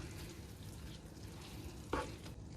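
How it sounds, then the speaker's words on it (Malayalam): Chicken semi-gravy stirred in a pan, a low steady simmer and sizzle running throughout, with one brief, sharper scrape of the spoon near the end. "എന്നിട്ട് ഇതിനെ ഒന്ന് നന്നായിട്ട് മിക്സ് ചെയ്യാം."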